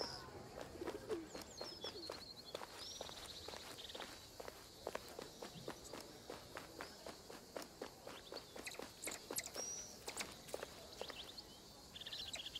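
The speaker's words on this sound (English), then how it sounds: "A feral pigeon. Columba Livia Domestica." Feral pigeon cooing in the wildlife game Alba: A Wildlife Adventure, faint coos behind a steady patter of footsteps through a quiet town.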